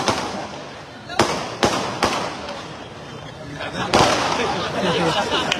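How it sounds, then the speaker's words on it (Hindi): Sharp pops and bangs of firecrackers burst at irregular intervals against a noisy outdoor backdrop, with a few louder cracks standing out. "मैं पटाखे के बारे में बोल रहा हूं।"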